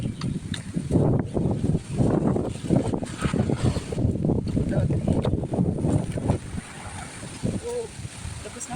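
Gusty wind during a typhoon buffets the microphone in uneven surges, loud and rumbling, with people talking over it.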